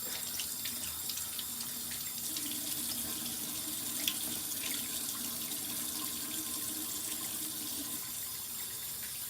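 A tap runs into a sink while face wash is rinsed off, a steady soft splashing stream with faint irregular drips and splatters, close and moderately quiet, continuing throughout.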